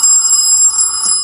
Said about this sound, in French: on va regarder un petit peu le son du téléphone, au moins la sonnerie